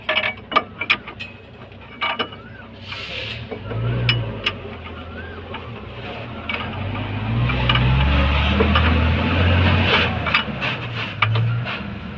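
Nuts being tightened while ten-wheel truck leaf springs are assembled: ratcheting clicks and sharp metallic clanks up front, then a running mechanical drone like an impact tool or engine beneath further knocks, close and fairly loud.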